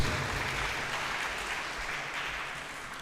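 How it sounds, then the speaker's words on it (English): Sustained applause from a crowd at a book launch, steady clapping filling the whole stretch without a break. "Let's give her a big round of applause."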